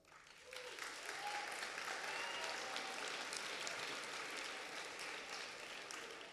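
Sustained audience applause fills a graduation ceremony hall, a dense, steady wash of many hands clapping that swells quickly and holds at full strength, with faint whistles and voices mixed in.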